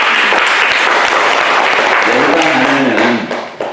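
A congregation applauds during a Won Buddhist scripture talk on the Heart Sutra, loud and close, dense clapping that runs for about three seconds before a voice begins speaking as it fades.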